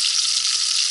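Fresh fish fries in a pan over an outdoor campfire, giving a steady, close, hissing sizzle with no talk over it.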